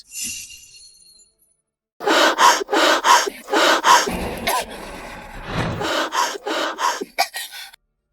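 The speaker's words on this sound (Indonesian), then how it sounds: "Dia sesak napas." A young woman in a drama scene gasps for breath during an asthma attack, with a run of harsh, rhythmic, rasping breaths close up following a brief quieter breath and a short silence.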